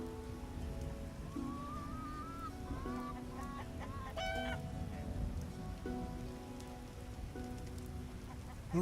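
Steady rain downpour in The Witcher video game, a constant hiss of falling water with a cat meowing repeatedly over it and faint chiming tones in the background.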